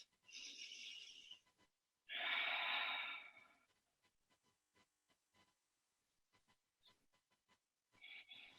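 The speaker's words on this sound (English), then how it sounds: "Take 3 deep breaths." Two deep, slow breaths, a long airy inhale and a fuller exhale, close and alone in a quiet room during a guided yoga and chakra breathing exercise, with faint small rustles between them.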